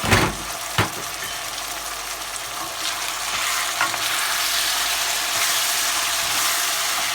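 Steady sizzle of ingredients sautéing in a hot pan for diet rice, with a couple of stirring scrapes early on, a continuous close frying hiss with no talk.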